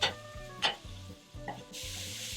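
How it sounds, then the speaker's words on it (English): Sausage sizzles steadily in a frying pan while a spatula scrapes and chops it into small chunks, giving rhythmic knocks over a hiss that swells near the end. "while your sausage is cooking, you want to be constantly going at it with a spatula and just breaking it up into as smaller chunks as you can"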